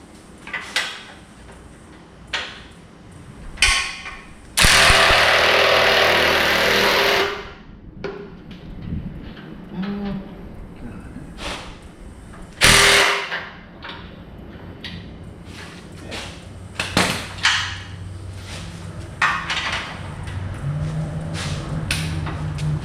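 Mechanic working on the frame of a 1977 Pontiac Trans Am: irregular metallic clicks, clanks and knocks of a wrench on frame bolts, with a couple of louder scraping bursts and no talk.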